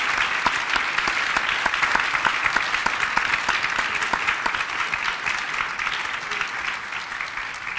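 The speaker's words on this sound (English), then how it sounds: "a round of applause" A seated audience at a talk on leaving white supremacy applauds in a thick, continuous roar of clapping that holds strong for several seconds and eases slightly toward the end.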